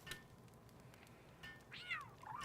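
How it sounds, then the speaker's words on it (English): Cat meowing in a video game, one drawn-out mew near the end of the moment over a faint background hum, close and fairly clear. "Actually sounds like a cat."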